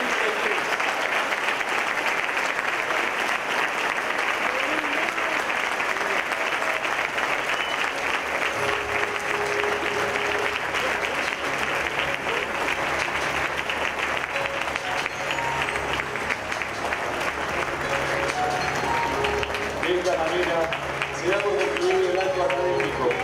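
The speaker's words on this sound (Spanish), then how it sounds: "Les brindamos un fuerte aplauso." An audience at a diploma ceremony applauds loudly and steadily for over twenty seconds, a dense wash of clapping with voices mixed in.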